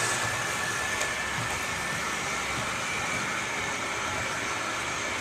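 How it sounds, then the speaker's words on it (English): Bachmann model trains, including a GP-40 locomotive, hum and rattle continuously along a track, a steady mechanical whir with a faint high whine and no voices. "I've got 2 trains running on here"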